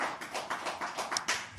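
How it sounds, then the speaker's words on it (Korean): An audience applauds at a gathering outside a temple, a brief burst of scattered claps at moderate volume with no voices over it. "또 한 번 박수 쳐주세요"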